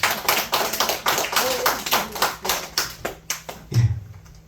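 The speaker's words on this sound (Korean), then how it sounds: "박수 한 번만 쳐주세요." Scattered clapping from a church congregation during a Sunday service, irregular claps building briefly and fading out over a few seconds.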